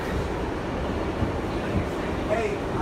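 Subway train running through a tunnel, a steady loud low rumble of rail noise throughout with a faint wheel squeal near the end, and some talk mixed in.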